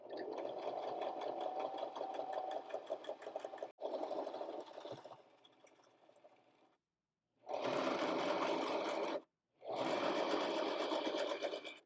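A sewing machine stitches a half-inch seam allowance in several sustained whirring runs, close and steady, stopping briefly between bursts and slowing near the middle before two more strong runs.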